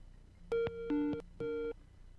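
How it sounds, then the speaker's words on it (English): A telephone line tone during an incoming call plays as three short electronic beeps in an uneven pattern, clear and fairly quiet against a hushed background. "let's take this phone call"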